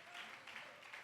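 A church congregation applauding during a Sunday school service, a soft, diffuse patter of clapping that swells and eases in waves over about a second, fairly faint and without talk over it.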